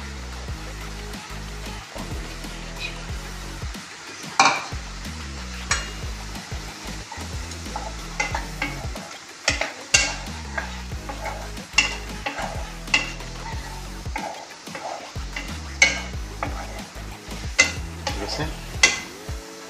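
Cherry tomatoes cook with ginger, garlic and onion in an oil-free pan, a soft, steady sizzle under repeated scraping stirs and clinks of a spoon against the pan.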